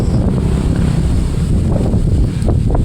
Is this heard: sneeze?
no